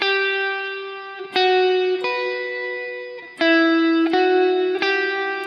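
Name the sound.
guitar played with reverb effect switched back on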